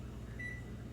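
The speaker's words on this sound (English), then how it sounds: "I'm going to go ahead and throw those in the microwave for 5 minutes" A microwave oven heating peas and carrots hums steadily at low volume, a constant drone with a faint tonal whine and no talk.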